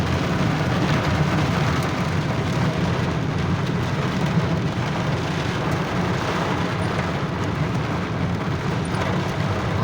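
A dense, steady downpour in Mecca hisses and drums loudly and evenly, filling the whole stretch without letup.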